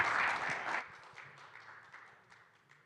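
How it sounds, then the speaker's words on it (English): Short burst of audience applause at a Las Vegas education conference, strongest in the first second and then thinning into scattered claps and faint room noise. "join me in a round of applause"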